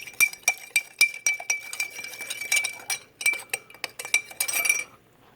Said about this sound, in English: Let me stir it up a little bit.